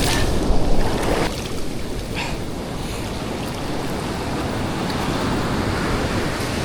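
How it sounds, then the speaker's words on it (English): Rough sea water with a strong, fierce current and breaking waves off Cartagena, a steady loud roar of surf and wind buffeting the microphone throughout, with no voices. "Water feels amazing, but man, this current is vicious."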